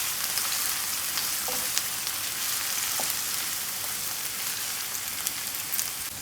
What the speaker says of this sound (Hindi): इसे 1-2 मिनट के लिए भूनते हैं।